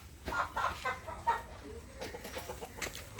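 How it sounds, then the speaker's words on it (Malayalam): Backyard chickens clucking near their coop, with soft, irregular clucks and short calls scattered over a few seconds at low volume amid faint background noise. "അതാണ് ഞങ്ങളെ കോഴി."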